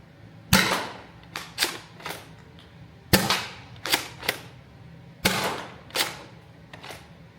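A modded foam dart blaster fires a rapid string of sharp pops at a target, grouped in bursts of three to four shots with brief pauses between, close and loud with no talking.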